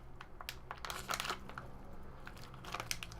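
A plastic military ration pouch for southwest beef is pulled and torn open by hand, giving close crinkling and crackling bursts of film, irregular and moderately loud with no voice.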